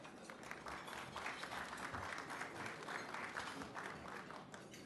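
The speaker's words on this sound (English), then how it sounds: "Please join me in giving these mayors another well-deserved round of applause" Audience members at a mayors' lunch event applaud in a dense, steady round that carries on evenly for several seconds.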